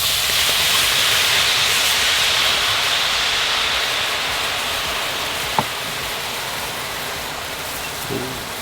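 Bloody Mary juice hissing and sizzling on a hot grill with clams and mussels, a loud, steady, steam-like hiss that fades slightly over time, with a brief click partway through.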